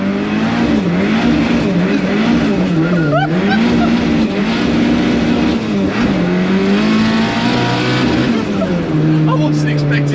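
A 500 bhp Ford Escort Mk2 Cosworth is driven hard, its engine loud and constant, revving and dropping through gear changes, with tyre noise and a voice over it.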